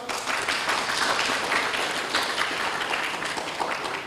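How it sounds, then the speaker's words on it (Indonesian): Audience applause at a national heroes commemoration dialogue in Indonesia, a dense, steady round of clapping filling the whole stretch with no voices on top. "Tepuk tangan saudara sekalian"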